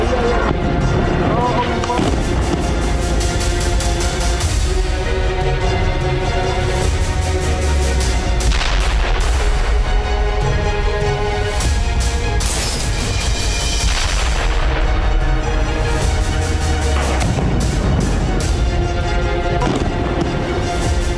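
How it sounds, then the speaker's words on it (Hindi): Artillery and weapons fire in war footage, with loud repeated booms and blasts under a dense mix that includes talk. "उसके फाइटर जेट्स और टैंक इस वक्त गरज रहे हैं।"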